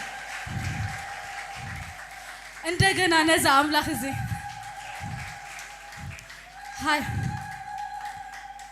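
A church congregation at a live Thursday service applauds and ululates in a brief, lively burst of trilling voices and clapping. Spoken words come before and after it.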